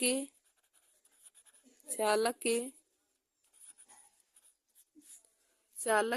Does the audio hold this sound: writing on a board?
yes